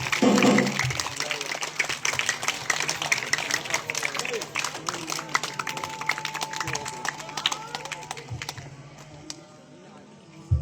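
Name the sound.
audience applause after a play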